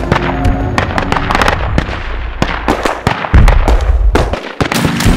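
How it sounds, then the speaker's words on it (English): Gunfire in a battle between army men and Lego soldiers comes as rapid, loud cracks and pops fired in dense, irregular bursts, with a heavy boom near the middle and no talking. "Wait, is that gunfire?"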